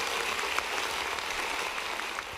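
Steady applause fills a school hall during an annual review, a dense wash of many hands clapping at an even level, with no speech over it.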